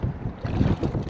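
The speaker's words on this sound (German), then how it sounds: "Der Wind ist ja doch relativ dolle" Strong wind buffets the microphone while kayaking on open water near Vejle, a steady loud low rumble with gusty swells throughout the brief moment, no voices.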